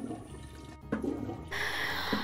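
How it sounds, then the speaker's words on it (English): Video game toilet flush in Toilet Flushing Simulator: a faint click followed by a rushing swirl of water that swells and continues steadily to the end. "Ooh, we can flush a toilet."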